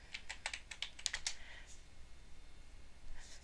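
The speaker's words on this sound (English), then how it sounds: "You would just type Java dash version." Computer keyboard keys clicking in a quick burst of about a dozen taps as a command is typed into a Linux terminal, close and clear, followed by quiet room tone.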